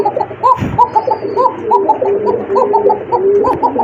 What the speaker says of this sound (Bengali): দুইটা কবুতরই কিন্তু ডাকে।